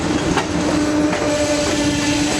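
Amtrak's California Zephyr passenger train rolls along the rails in the Rocky Mountains, a loud, steady close rumble with rhythmic wheel clicks and a faint sustained whine.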